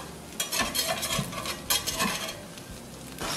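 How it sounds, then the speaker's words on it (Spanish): A Spanish tortilla cooking over medium heat in a pan, stirred and shaped with a spatula: close scraping strokes over a soft sizzle, in a few distinct bursts, with no speech. "Seguimos revolviendo."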